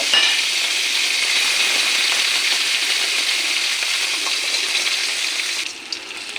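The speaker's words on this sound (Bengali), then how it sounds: "এখন মাছটি আর বেগুন পরপর ভাজা করে নেব" Tengra fish and eggplant fry in hot mustard oil with a loud, continuous crackling sizzle that stays steady up close, then quiets slightly near the end.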